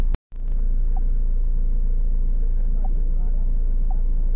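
A Jeep Compass with a check-engine fault idles steadily just after starting, a low even rumble that holds close and constant after a brief cutoff at the very beginning.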